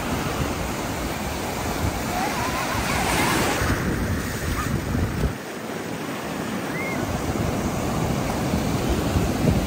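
Sea waves wash continuously onto a busy beach, with steady broadband surf noise and wind buffeting the microphone throughout and a brief dip in the middle.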